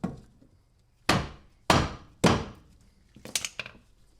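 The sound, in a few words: hammering down a car control arm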